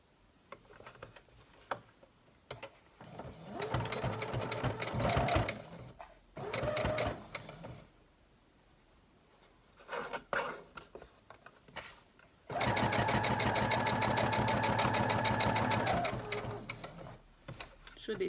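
A sewing machine stitches fabric for a face mask in short, close bursts of rapid mechanical chatter, with the longest run at the end and brief quiet pauses between runs.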